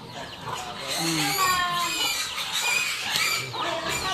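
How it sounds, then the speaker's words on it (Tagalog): Pigs on a farm squeal in high, piercing bursts at close range, overlapping one another, with people talking faintly underneath. "Daghan kay sila baboy diri guys."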